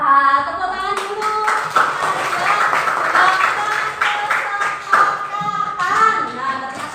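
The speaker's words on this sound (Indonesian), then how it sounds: "Wah, tepuk tangan dulu." Group of people in a school classroom clapping hands together, a busy patter of claps mixed with voices and cheering, close and moderately loud, lasting several seconds.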